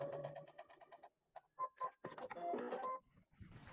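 A sewing machine stitches binding onto a bunny-themed quilted bench pillow, short bursts of rapid mechanical ticking broken by brief pauses, close but fairly quiet.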